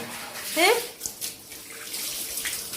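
Water splashes as it is poured over a puppy during a bath: one quick pour, then quieter trickling and dripping.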